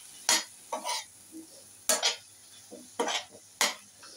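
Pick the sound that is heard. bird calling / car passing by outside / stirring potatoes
stirring potatoes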